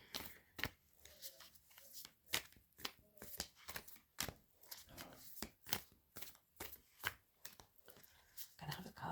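Tarot cards are shuffled by hand in a quick, rhythmic series of crisp riffling slaps, close and fairly quiet, continuing for several seconds without talk.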